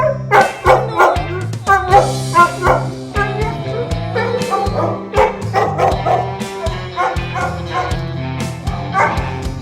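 Dogs at a San Diego County animal shelter bark and yip in a loud, busy series of overlapping calls with whimpers between them, close by, while people talk intermittently.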